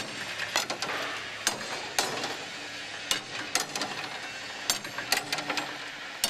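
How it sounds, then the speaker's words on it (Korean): Hammer blows ring out against a bronze casting, knocking loose sand and rebar: a dozen or so sharp metallic strikes at an irregular pace, fairly close, with faint clattering debris between them. "쇳물 주입구나 철근, 주물과 상관없는 부분을 망치로 쳐서 분리해내는 것이다."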